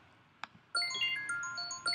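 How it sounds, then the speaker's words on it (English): A computer phone call rings with soft, bright electronic chime tones, repeating after a faint click in an otherwise quiet room. "It recorded that ringing call"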